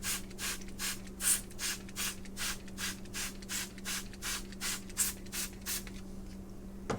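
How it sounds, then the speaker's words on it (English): A hand-pumped spray bottle mists water over orchids, about fifteen quick hissing squirts in a steady rhythm, close and clear over a faint hum, ending in quiet. "let's just spray this"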